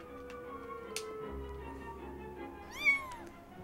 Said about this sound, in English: Cat, kitty cat.